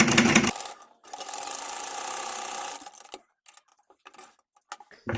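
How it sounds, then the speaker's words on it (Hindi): A sewing machine stitches a seam on a small child's kurti, a short burst followed by a steady whirring run of about two seconds, then a few light clicks and taps as the fabric is adjusted. "अब हमने देखिए हमने एक ही तरफ से सिलाई लगानी शुरू करी है"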